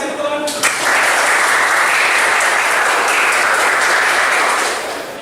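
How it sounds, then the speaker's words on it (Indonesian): Loud, sustained applause from a classroom audience during an Islamic studies performance exam, a dense crowd of clapping that starts abruptly after a brief voice and holds steady for several seconds. "Kita kasih tepuk tangan."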